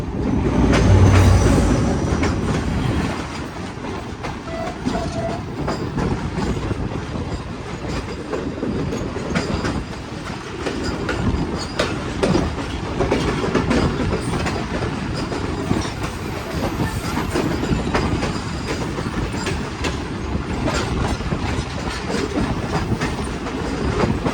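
A refurbished Awam Express passenger coach runs on rails with a continuous loud rumble and rhythmic clickety-clack of wheels over joints, heard steadily from inside the carriage.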